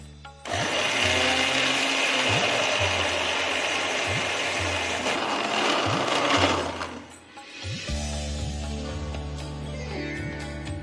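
Mixer grinder jar grinding soaked rice or urad dal into idli batter, a loud steady whirring motor drone that cuts out briefly near the end, then restarts and runs on.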